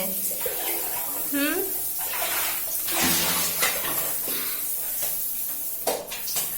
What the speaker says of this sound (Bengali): ঝর্ণার জল এমনি পড়ে যাচ্ছে